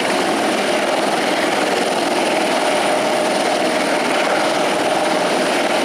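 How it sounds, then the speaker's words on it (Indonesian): A toy helicopter gives off a loud, steady whirring drone that holds unbroken throughout. "Lihat yang ini kan helikopter."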